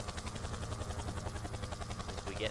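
A TV helicopter hovers over the Bathurst mountain circuit in the rFactor 2 racing game, its rotor a loud, steady, rapid chop that fills the short stretch alone.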